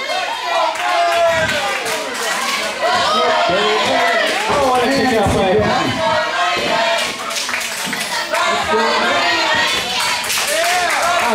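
Wrestling crowd at an independent Saturday night show, clapping in steady rhythmic bursts and cheering and chanting loudly throughout, a dense, close, continuous roar with shouting voices mixed in.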